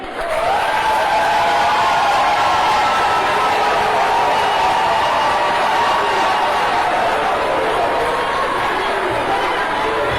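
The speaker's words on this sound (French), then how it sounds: "je vous prie d'applaudir Monsieur le sélectionneur Padou" At an awards ceremony in Cameroon's Palais des Congrès, a large audience applauds national team coach Padou with sustained, even clapping mixed with crowd chatter and some cheering for about ten seconds.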